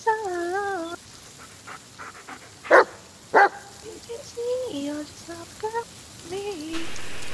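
A dog barks in the Blair Witch video game, a few loud, sharp barks spaced apart with whimpering, yelping tones between them, up close and clear with no talking over it.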